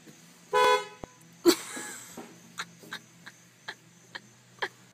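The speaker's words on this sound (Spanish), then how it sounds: "¡Cómo me asustan las bocinas de los autos!" Car horns honking, starting with one sustained loud toot, followed by a few short scattered beeps and clicks at a distance against a quiet background.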